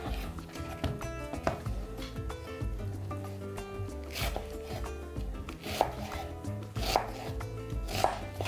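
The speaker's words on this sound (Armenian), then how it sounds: "Կտրատում ենք մանր։" Two medium onions chopped finely with a knife on a wooden board, a quick run of sharp, regular taps close to the mic, steady throughout with a few louder knocks.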